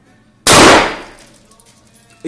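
A single 12 gauge shotgun shot goes off close by, one sharp, loud blast followed by a quickly fading ringing tail, with no talking.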